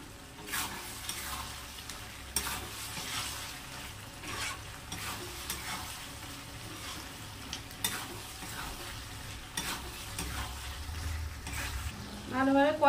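Chicken liver stir-fried in a pan with capsicum and kasuri methi, a steady soft sizzle with scraping and stirring strokes throughout, fairly close and moderately quiet, no voices over it.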